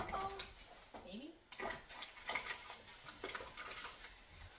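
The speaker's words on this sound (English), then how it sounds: "The water is boiling, so we're just going to add them in" Potato chunks plop into a pot of boiling water with a few clinks and splashes, then a soft simmering hiss continues.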